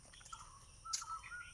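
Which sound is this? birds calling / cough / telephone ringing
birds calling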